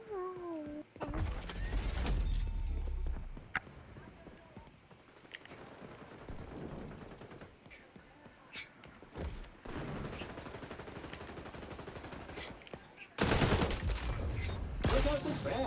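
Shotgun fire in the video game XDefiant comes as a few loud, sharp blasts spread across a stretch of quieter in-game sound.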